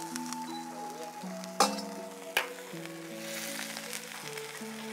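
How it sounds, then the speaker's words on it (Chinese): Fish hitting a pot of Sichuan pickled mustard greens, water and spring bamboo shoots, giving a soft, steady sizzle at close range with two sharp metallic clinks from utensils. "现在就是鱼儿下锅"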